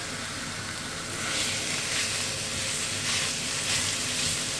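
Lean beef mince sizzles loudly in a dry pan with no oil, a constant close hiss that swells in waves as the meat is broken up and stirred.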